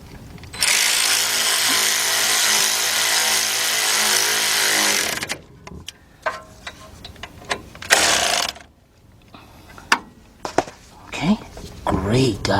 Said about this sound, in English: we got our 13mm with our big bill ratchet. I'm gonna go ahead in here and we're gonna tighten these bolts up